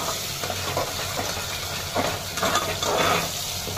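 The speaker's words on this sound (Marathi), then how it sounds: "खडे मसाले घेतलेले आहेत, दालचिनी लवंग मिऱ्या तेजपत्ता हे असेल तर टाकून घ्यायचे" Whole spices such as cinnamon, cloves, peppercorns and bay leaf fry in hot oil with onion and peanuts for pulao, a continuous close sizzle with soft swells of stirring.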